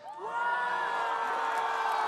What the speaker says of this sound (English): And you hear the reaction of the crowd